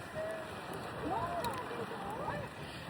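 Faint wind and water wash around a small boat at sea in the rain, a soft steady rush with a few thin whistling tones.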